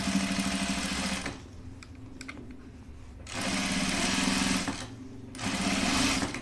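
A sewing machine stitches a button-up shirt in bursts, its rapid mechanical whirr running about a second, pausing, then running twice more for longer stretches, close and loud, with quiet clicks between runs.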